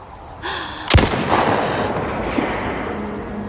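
A single sharp gunshot from a film scene cracks loudly and up close, then trails off in a long rumbling echo over low background noise.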